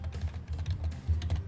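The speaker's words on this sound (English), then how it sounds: "And I'm doing all of this with my keyboard" Rapid, uneven clicking of keys on a computer keyboard, close and clear, with quick bursts of keystrokes and no talking.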